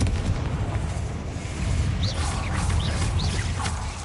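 A Confringo blasting spell erupts in the Hogwarts Legacy video game, a loud sustained booming blast with a deep rumbling body and crackling debris, no voices.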